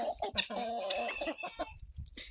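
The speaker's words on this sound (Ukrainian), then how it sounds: "Кохи посходились, курочки. От, півник іде." Hens and a rooster cluck close by in a farmyard, a busy run of short soft clucks and throaty calls, fairly quiet and continuous with no talk.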